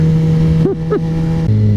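A sport motorcycle revs in first gear, a close engine drone with two quick rising-and-falling throttle blips before the pitch drops and settles.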